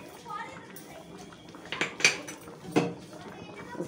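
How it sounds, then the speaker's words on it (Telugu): A spoon scrapes and clinks against a cooking pot while stirring jaggery semiya payasam, giving a few sharp metallic knocks over soft background noise. "ఒకసారి కలుపుకుందాం"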